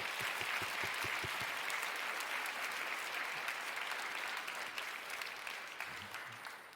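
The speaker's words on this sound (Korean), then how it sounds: "사랑과 위로의 마음을 담아 큰 박수로 격려하도록 하겠습니다." Sustained loud applause from a church congregation during a 2020 Daniel prayer meeting worship service, dense and steady for several seconds before slowly tapering off toward the end.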